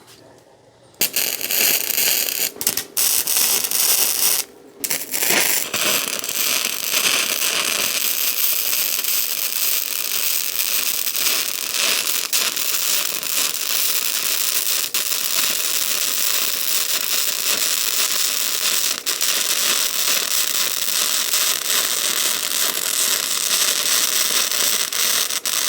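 Tack welding a steel belay bar for an indoor climbing wall, a steady loud crackling, sizzling arc that runs almost unbroken for over twenty seconds after a couple of short starts.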